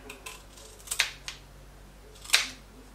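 Kitchen scissors snip through the tail of a sardine: two crisp, quiet cuts about a second apart against a faint room background, with no talking.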